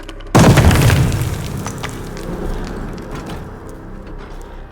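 A grenade blast in the World War II shooter Call of Duty: Vanguard erupts as a sudden loud boom, then trails off into a long rumbling decay with scattered debris and gunfire-like crackles.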